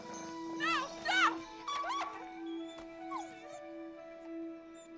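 A dog whimpers and lets out high yips in a drama set in biblical times, with short rising cries over a few seconds and quieter whines between, heard close and fairly clear.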